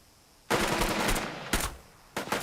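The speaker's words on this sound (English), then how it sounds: "We can open fire on them." Gunfire in the wargame Burden of Command 6, set at the Hotel Miramar: three loud bursts of rapid automatic fire, the first sustained for about a second, then two shorter volleys, with no talk.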